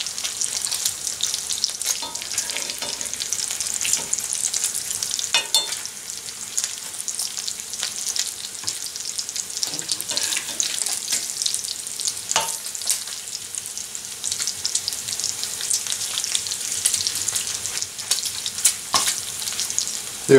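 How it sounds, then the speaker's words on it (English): Bacon frying in a pan, a steady dense sizzle and crackle with occasional louder pops, close and continuous, with no talking. "Cooking this bacon without letting y'all watch."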